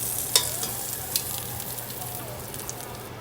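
A browned pork chop sizzles in a pan with a loud, continuous hiss and crackle, punctuated by a couple of sharp pops.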